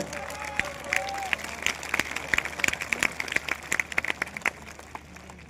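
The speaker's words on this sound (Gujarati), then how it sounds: "એકવાર જોરદાર તાળીઓ આપણા આગેવાનો માટે." A crowd at a Thakor Kshatriya community gathering in Gandhinagar applauds its community leaders, a burst of scattered, close claps that thins out toward the end, with some voices mixed in.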